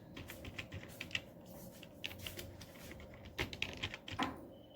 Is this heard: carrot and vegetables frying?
no